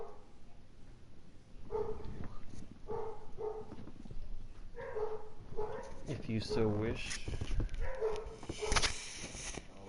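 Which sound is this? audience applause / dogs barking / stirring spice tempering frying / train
dogs barking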